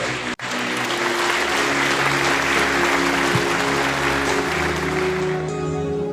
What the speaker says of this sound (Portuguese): Você pode aplaudir ao nome do Senhor Jesus nessa noite